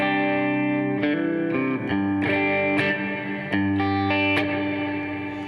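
Electric guitar chords played slowly with a deep, washy ambient reverb, each chord ringing out and blending into the next.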